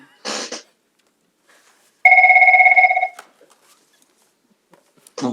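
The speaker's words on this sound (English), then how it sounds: "Is that your phone, Mr. Pullen?" A telephone rings once with a loud electronic trill lasting about a second during a fire inquiry hearing in a quiet room, with short bursts of sound before and after.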